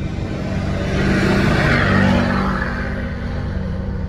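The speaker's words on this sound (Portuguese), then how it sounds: "o caminhão passou aqui" A truck passing on a gravel road under construction in Bahia, heard as a loud, steady engine rumble and road roar that swells briefly in the middle and then holds.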